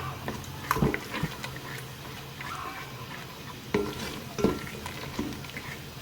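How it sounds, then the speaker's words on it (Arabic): Beaten eggs and onion stirred together in a pan, with a faint sizzle under soft scraping and a few clacks of the spoon against the metal, close by and fairly quiet. "وانا غادي نخلط البيض مع البصله"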